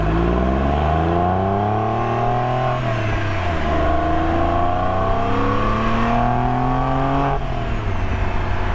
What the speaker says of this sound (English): so the exhaust kind of reverberates through the cabin as well